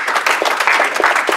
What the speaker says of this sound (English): a huge round of applause for all of our performers